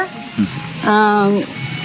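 Potatoes frying in a pan give a steady, close sizzle throughout, with a brief tonal squeak rising over it partway through.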